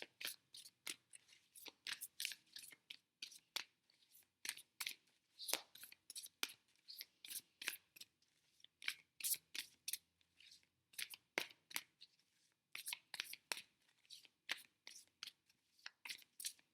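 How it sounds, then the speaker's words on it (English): Tarot cards being pulled and shuffled from a Fairy Tarot deck, close and quiet, a run of crisp papery flicks and slides in uneven bursts with short pauses between. "I'm going to pull a few cards from the Fairy Tarot cards"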